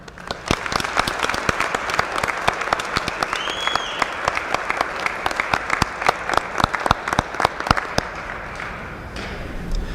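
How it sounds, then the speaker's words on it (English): A large crowd of graduates at a college commencement claps steadily and enthusiastically for several seconds, with sharp individual claps standing out before it tapers off near the end. "I would ask that you give yourselves a round of applause."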